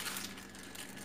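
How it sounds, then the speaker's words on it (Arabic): A plastic bag of frozen strawberries is torn open in a kitchen for blender juice, giving steady close crinkling and crunching plastic throughout with no voices. "هنفتح كيس الفراولة"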